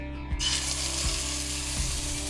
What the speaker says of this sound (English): So you hear that sizzle? That's what you want.